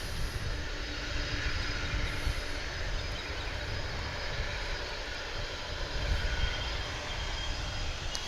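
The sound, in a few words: engines of a UPS MD-11 aircraft whining at DFW airport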